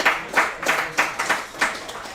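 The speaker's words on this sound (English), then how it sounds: "Can we give them a round of applause, please?" A small audience applauds guests at a football spotlight interview, with a short burst of scattered, uneven hand claps that sound fairly close.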